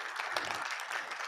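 Brief, fairly quiet burst of audience applause for Prof. Bonang Mohale at a North-West University convocation public lecture, an even patter of many hands clapping.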